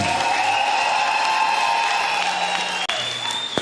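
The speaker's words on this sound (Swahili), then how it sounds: "Pasia Yesu sadaka ya makofi mazuri." A church congregation at a lively night praise service in Kayole applauds with sustained, dense clapping, a crowd sound filling the room alongside a held tone, without clear speech.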